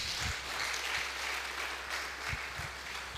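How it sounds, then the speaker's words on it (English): Audience applause at a memorial lecture for journalists, a steady crowd of clapping hands filling the room for the whole stretch, with a few sharper claps and thumps standing out. "Comrade Isiguzo deserves a better round of applause."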